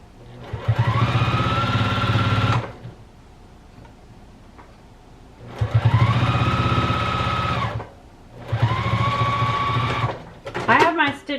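A sewing machine set to stitch length 2 runs three steady bursts of rapid stitching on teddy bear fabric, pausing between runs, with a brief rattle of adjustment at the end.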